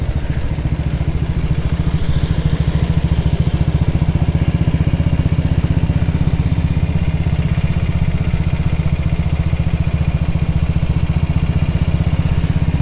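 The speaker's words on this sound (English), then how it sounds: "Get to ride all these different classic bikes." A classic motorcycle ridden at an easy pace around a track at a national motorcycle event. Its steady engine drone runs continuously and close, with no talking.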